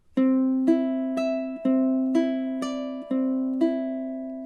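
Ukulele fingerpicking étude phrase played in steady time: about nine evenly spaced plucked notes ringing over a sustained lower tone, clear and close with no talk.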